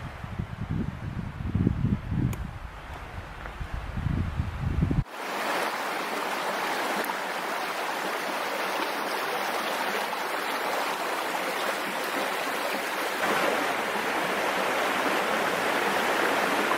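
Creek water rushes steadily at a flat, open backpacking campsite in the Pennsylvania wilderness in spring, a dense continuous wash close by that fills the scene after a few seconds of quieter outdoor rumble.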